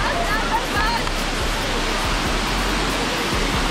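Rain and rushing water fill the air close to a jungle waterfall on a river trek in Sabah, a loud, unbroken wash of noise with faint low thuds underneath and no talk.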